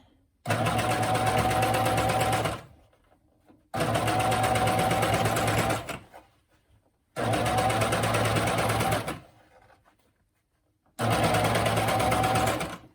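A coverstitch machine sews a reverse coverstitch inside a pair of leggings in four loud, steady motor bursts of about two seconds each, separated by short quiet pauses.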